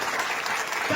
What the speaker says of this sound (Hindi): स्वागत करते हुए जोरदार तालियां